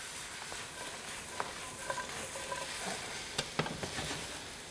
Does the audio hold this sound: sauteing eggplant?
yes